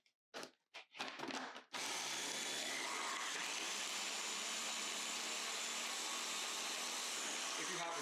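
A kitchen food processor chops green seasoning, starting with a few short pulses before settling into a steady, loud, close whirring grind that continues to the end.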